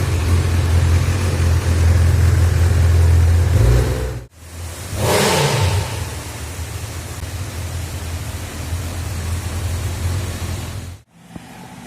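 A new Honda CB 1000R café motorcycle engine revs loudly and close by, a steady low roar for about four seconds, then a short cut and another surging rev that holds for several seconds before stopping.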